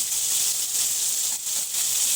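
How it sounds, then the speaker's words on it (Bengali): Prawns frying in a pan on a home kitchen stove, giving a steady, close hiss and sizzle that holds without a break through the whole stretch. "আর এদিকে আমার চিংড়ি মাছটা এই যে ভাজা বসাই দিচ্ছি"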